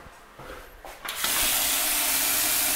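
Water from a bathroom tap starts running: a few quiet knocks and handling noises, then a sudden loud, steady hiss of strong water pressure that continues to the end.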